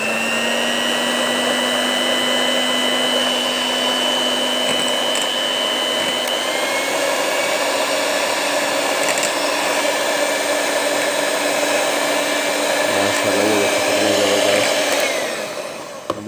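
An electric mixer whirs loudly and continuously as it beats slightly melted butter for a chocolate marble cake batter, its motor pitch holding steady for about sixteen seconds before dropping off briefly near the end.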